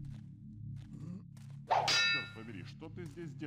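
In the stealth game Thief: The Dark Project, a statue is struck and breaks with one sharp, ringing clang and a brief shimmering ring-out, set against a low drone of ambient game sound.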